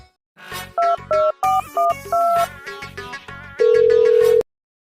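A phone plays a melodic ringtone for an outgoing call, several short bright tonal bursts in a quick pattern and then one long sustained note, loud and close in an otherwise quiet room.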